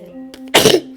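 One short, sharp burst of breath, like a sneeze or cough, preceded by a faint tonal hum.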